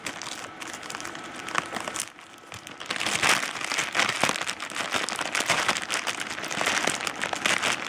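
Plastic packaging around pyramid-profile foam is torn open, giving continuous loud crinkling and crackling close by, with a brief lull before it grows busier and denser.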